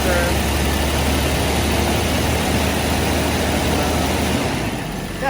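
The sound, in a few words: V12 classic car engine idling and revving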